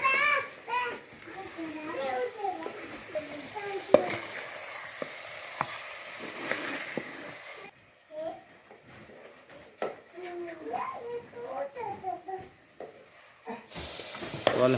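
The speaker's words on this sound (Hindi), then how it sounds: "तो अभी मैं अल्हम्दुलिल्लाह चिकन बना रहा हूँ।" Chicken with spices frying in a pan gives a low sizzle and occasional stirring scrapes, quiet and intermittent beneath someone talking and children's voices.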